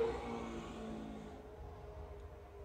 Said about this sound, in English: it's like a loud car just ran by my house